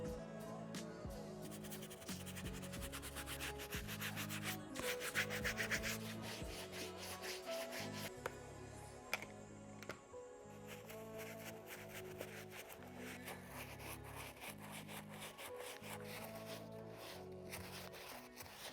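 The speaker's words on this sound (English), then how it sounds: "right now I gotta use the medium bristle brush. I'm gonna work on this midsole" A medium bristle brush scrubs a sneaker's midsole and sock liner in steady, rhythmic strokes, close and fairly loud, with repeated bursts of rubbing and no talking.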